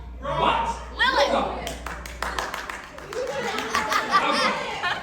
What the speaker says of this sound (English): Now, everyone's clapping because people know my resume.